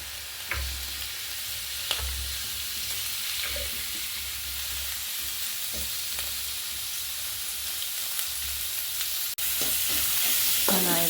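Sliced onions fry in coconut oil on a stove, giving a constant hiss and crackle with periodic low scraping stirs, close up and steady throughout.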